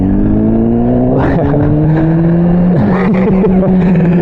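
Motorcycle engine fitted with a Domino XM2 quick action throttle and a Translogic QSXI quick shifter, revving hard and close with rising and falling pitch through gear changes, loud and steady over wind rush.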